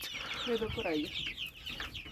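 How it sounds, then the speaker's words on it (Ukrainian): Young Tricolor chicks cluck and cheep softly at close range, several overlapping calls with faint background noise. "Це зараз курчата триколори підрощені."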